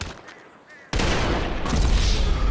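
Heavy sniper rifle fire in GTA 5 Online, a sudden loud blast followed by a long booming rumble and echo that fills the rest of the moment, after a quieter lead-in.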